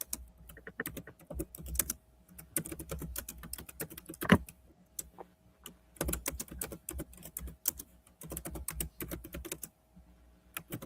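Rapid tapping on a computer keyboard comes in uneven bursts with short pauses, close and fairly quiet, with no voices.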